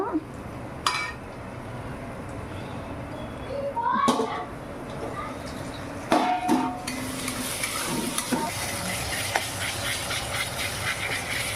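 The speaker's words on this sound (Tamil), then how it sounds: "தக்காளி போட்டு நல்லா வதக்கிட்டு இருக்காங்க" Tomatoes sauté in a pan for chicken masala with a steady close sizzle, broken by occasional stirring scrapes and clinks, with faint voices in the background.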